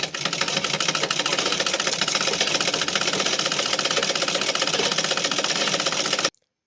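A freshly repaired sewing machine runs steadily and loudly with a fast, even mechanical clatter for about six seconds, then stops abruptly.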